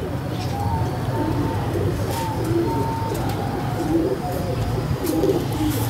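Breeding pigeons in a loft, with soft low cooing repeated at close range over a steady background murmur and a few faint chirps.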